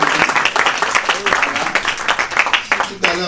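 Applause for a man honoured for supporting cinema: uneven clapping from a small audience, with individual claps standing out, mixed with talk through most of it.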